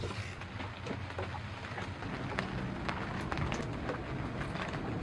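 Rain falling around a 30-year-old sailboat, a soft steady patter with scattered drips hitting nearby surfaces, fairly quiet and continuous.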